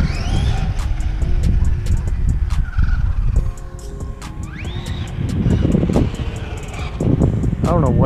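Traxxas Hoss RC truck on a 2S battery racing past, a whining electric motor rising and falling in quick bursts with wind noise on the microphone and a person talking over it.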